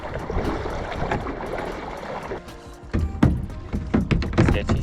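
A boat is paddled down a shallow river, with water swishing and splashing, dull knocks of paddle and hull, and a broad rush of flowing water, close and uneven.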